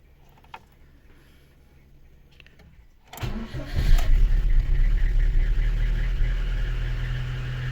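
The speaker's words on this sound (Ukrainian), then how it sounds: "Холодний пуск, так вона працює на холодну, тільки-тільки завів" A VAZ 2110 car engine fires up on its first cold start after repair, catching suddenly after a quiet pause and settling into a loud, steady, slightly uneven idle close to the listener.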